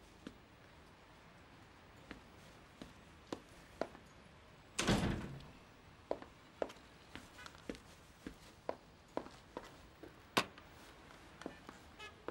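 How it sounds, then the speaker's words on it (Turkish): A door is shut in an indoor room with one loud, broad thump partway through. Scattered sharp clicks and light steps tick around it, and no one speaks. "Kapat kapıyı."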